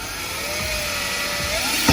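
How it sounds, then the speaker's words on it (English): A power drill whirs loudly and continuously, its pitch rising and falling slightly as it cuts a hole, ending with a short bump. "Now we'll drill a hole."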